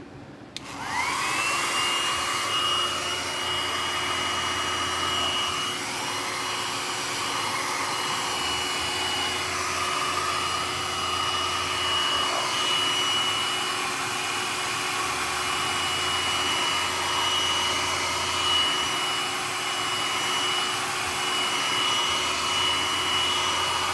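A blow dryer runs continuously to warm and dry grain filler on a wooden guitar kit body, a steady close whooshing whine that starts abruptly and holds at an even level throughout, with no talking.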